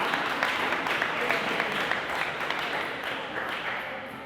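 Audience clapping steadily through a closing ceremony, a dense continuous patter of many hands filling the room at a constant level without pause.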